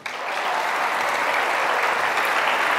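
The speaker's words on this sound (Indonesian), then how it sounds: "tepuk tangan untuk kamu" A room full of people clapping, dense and steady applause that swells quickly and holds strong throughout.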